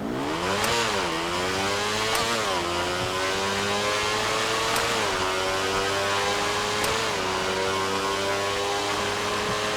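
A modded Ducati V4S motorcycle engine in GTA V revs in short bursts with sharp backfire pops, over a steady drone; it sounds synthetic, like game audio.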